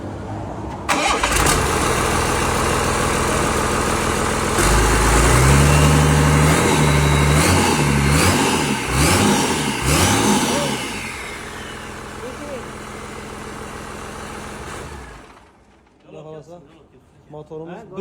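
An excavator engine cranks and fires up, then settles into a loud, rumbling idle with some revving, close by, before cutting off near the end, with people talking in the background.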